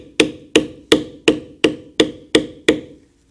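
A hammer or mallet strikes a bevel tool into leather during Celtic-pattern tooling, eight sharp, evenly spaced knocks about a third of a second apart, close and clear, then silence.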